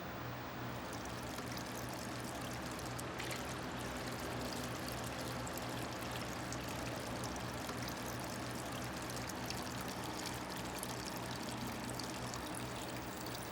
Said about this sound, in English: You pour silver nitrate on a piece of glass and it turns into a mirror.